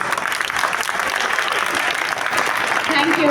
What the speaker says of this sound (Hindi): तो आप लोग की तालियां आनी है